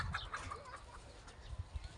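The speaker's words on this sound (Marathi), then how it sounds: "कोंबडे बघा काय करायला लागल्यात" Several chickens cluck and chirp softly nearby, short calls scattered over a quiet, faint background.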